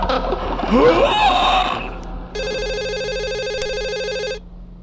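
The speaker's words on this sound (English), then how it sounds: "could you hold it for a second? Let me answer this phone." A telephone rings in a horror video game, a loud electronic warbling ring that holds for about two seconds, after a burst of shrill screaming and before a quiet tail.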